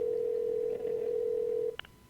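A telephone before a call: a steady, loud dial tone holds for almost two seconds, then cuts off into a couple of short dialing beeps.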